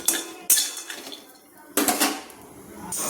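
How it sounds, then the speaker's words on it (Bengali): Peanuts being dry-roasted and stirred in a hot karai over a gas flame, heard as scraping metallic clinks of a spatula against the pan in a few bursts, fairly close, with no talking. "এবার একটু সময় নিয়ে আমি কিন্তু বাদামগুলো ভেজে নিচ্ছি নেড়ে চেড়ে"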